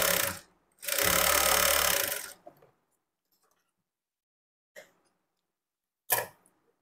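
A sewing machine runs one loud sustained stitching burst of about a second and a half along the edge of a lining blouse cloth, followed by a few short clicks and taps and then quiet.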